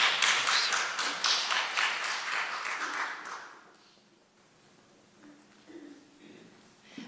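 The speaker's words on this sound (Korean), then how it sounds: "박수로 환영하겠습니다" Welcoming applause from a church gathering for a visiting nun, a burst of clapping that fades out after a few seconds, leaving quiet room sound.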